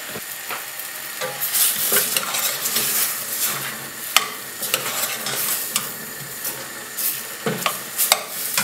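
Mushrooms dropped into a cooked spice mixture sizzle loudly in a pan, with repeated scraping stirs and sharp utensil clicks over a continuous hiss.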